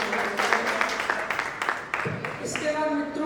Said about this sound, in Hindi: एक बार पूरा सदन जोरदार तालियां बजाए